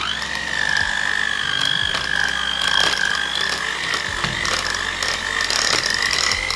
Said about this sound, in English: once it's more or less combined, I'll mix with the electricity.